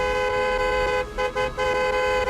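A car horn blares in one long, loud, sustained honk on its own, dipping briefly twice near the middle before holding steady again.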